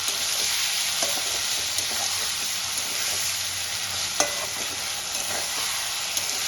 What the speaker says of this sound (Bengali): এবার আমি আদা রসুনের পেস্টটা দিয়ে দেবো আলুর সঙ্গে একসঙ্গে দিয়ে আমি কষাতে থাকবো